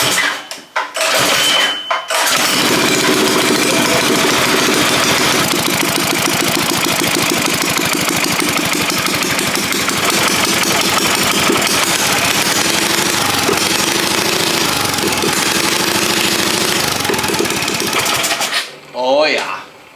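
A vintage go-kart's small engine sputters, catches and runs at a fast, rattling idle for most of the clip, then cuts out near the end.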